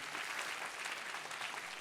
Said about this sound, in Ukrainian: аплодують всі ті самі люди